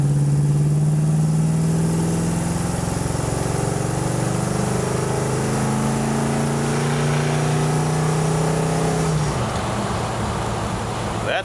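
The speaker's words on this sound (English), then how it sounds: "Sounds amazing when it's at full throttle with the tri-power setup." A 1964 Ford Galaxie 500 with a 390 tri-power V8 roars at full throttle, a loud, steady engine note climbing in pitch through a gear, then easing into a rough, lower cruising drone with road noise.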